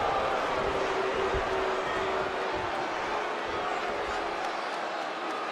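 A wrestling arena crowd in Phoenix roars continuously at a WWE Royal Rumble match, a dense, steady wash of cheering and noise filling the space without letup.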